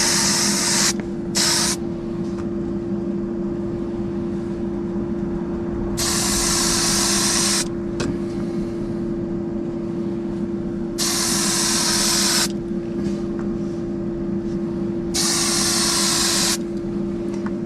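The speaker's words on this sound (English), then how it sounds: "First coat's going on right now." Testors high-gloss clear coat hisses from a spray can onto a slot car body in four separate bursts of one to two seconds each, loud and close, with quiet gaps between.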